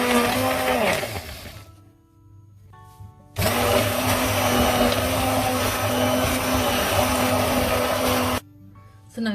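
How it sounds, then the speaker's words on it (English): A hand blender whirs in a pot of broccoli and coconut soup, starting with a short loud burst and then a long, steady, close grinding run before cutting off, with a brief restart at the end. "So I've taken the soup away from the heat and now I'm going to quickly blend it."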